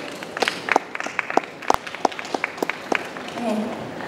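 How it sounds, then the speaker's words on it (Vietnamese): A crowd applauding at a corporate talk event in Vietnam, with scattered sharp claps over a murmuring background of voices, moderately loud and fairly close. "Các bạn vỗ tay to lên đúng không ạ?"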